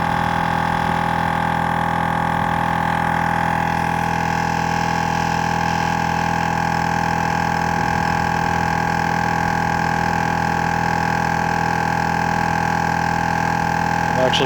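A Smittybilt 2781 5.65 CFM air compressor runs steadily, a continuous close mechanical drone with a strong hum that holds level throughout while it lifts a vehicle's wheel.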